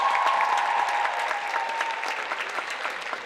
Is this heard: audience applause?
yes